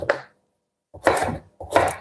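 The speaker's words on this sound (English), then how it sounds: "cut it in smaller pieces" A knife cuts steak on a board into smaller pieces: three dull, close chops, a single cut, a gap, then two longer scraping strokes, with no voices.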